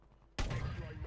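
A single loud gunshot rings out in Call of Duty Warzone 2, a sudden blast after near quiet that leaves a lingering rumbling tail.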